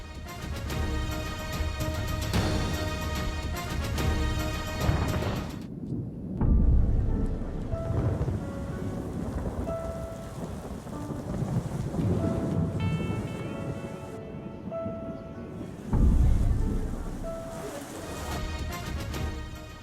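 A thunderstorm with heavy rain strikes cities across Pakistan, including Balochistan. Steady loud rainfall runs throughout, with deep thunder booms rolling in twice, and a tonal music bed underneath.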